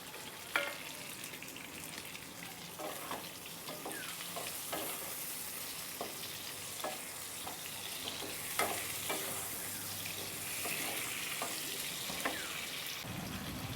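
Chopped tomato goes into a pan of frying pointed gourd, which sizzles quietly and steadily while a spoon clicks and scrapes now and then.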